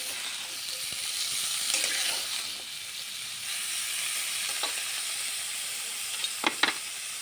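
Bottle gourd fries in a pan for a dried fish curry, giving a soft continuous sizzle and hiss, with a few sharper stirring clinks and scrapes near the end.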